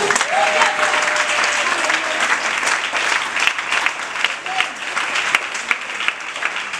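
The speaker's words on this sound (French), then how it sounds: "Acclame le Seigneur Jésus" A church congregation at a Sunday service of an evangelical mission breaks into loud, close applause mixed with cheers and acclaiming voices, the clapping dense and continuous with scattered shouts rising through it.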